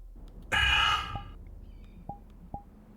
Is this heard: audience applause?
no